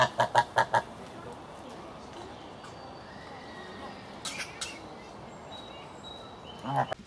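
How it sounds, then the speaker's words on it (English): A snow goose guarding its nesting mate gives a quick burst of loud honks at the start, then softer calls later over a quiet outdoor background at a zoo, with a louder cry near the end. "This snow goose over here is being defensive because its mate is currently nesting."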